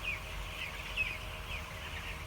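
Young chickens cheep and chirp in short high peeps, a few scattered calls over a steady low background hum.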